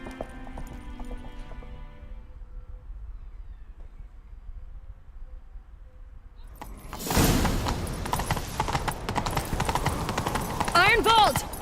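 Horse hooves pounding at a gallop in The Witcher 3: Wild Hunt, kicking in abruptly partway through as a loud, dense, continuous rush of hoofbeats and movement, following a quieter stretch of game ambience.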